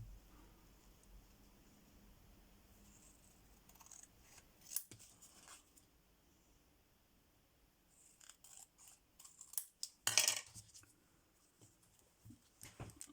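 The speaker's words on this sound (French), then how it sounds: "est-ce que je vais arriver à les découper droit là?" Scissors snip through paper, cutting out pieces for a mail-out, heard up close and fairly faint as scattered clusters of crisp cuts and rustles with quiet pauses between them, a louder burst of snips near the end, and no talk.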